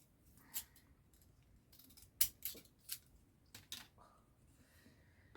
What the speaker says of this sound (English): Oh, I have trouble with these scissors